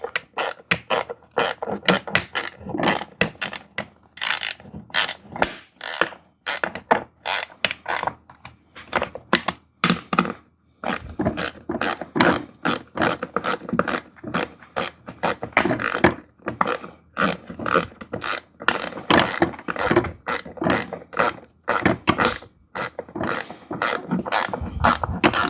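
Bolts on a hydraulic barber chair are tightened with a ratchet, giving close, dry clicking in quick irregular bursts with brief pauses, steady throughout and without any talk.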